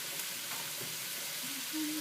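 Caramelizing onions and garlic sizzle in a pan as they are stirred and folded together, a steady close hiss of frying with a few soft scraping touches near the end.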